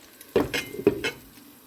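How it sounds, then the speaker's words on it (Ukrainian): A lid goes onto a pan of breaded pieces, giving two distinct metallic clanks about half a second apart. Each clank is close and sharp over a quiet background sizzle, and no one speaks. "І тепер накриваємо накриваємо кришкою."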